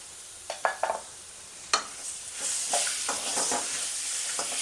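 Grated raw mango being stirred in a hot pan for mango pulihora, with a few sharp spoon scrapes and taps giving way to a steady, close sizzle.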